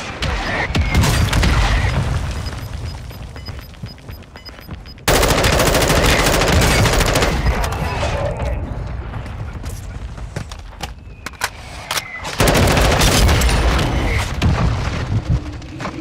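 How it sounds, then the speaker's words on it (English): Mortar strike explosions and gunfire in the video game Warzone 2.0: a dense, loud barrage of rapid shots with heavy blasts, breaking into two fresh louder bursts partway through and again near the end. "Requesting fire mission. Target. Copy that. Mortar strike inbound now."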